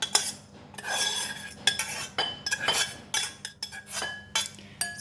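Freshly cooked minced pork for a spicy Thai larb moo salad being tipped into a mixing bowl, a series of sharp clinks and scraping clatters of utensil against bowl, close and irregular.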